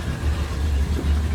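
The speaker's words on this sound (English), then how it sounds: "Let's crank her up. Yeah, starboard engine came on." A Carver Mariner 350 boat's starboard engine idles with a steady, deep low rumble, close and continuous with no voices over it.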